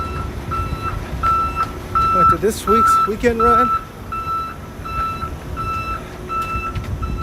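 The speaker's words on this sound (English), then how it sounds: "This truck is backing up here." A truck reverses nearby with steady, evenly spaced backup beeps, loud and close, while a runner talks over them on a daytime street.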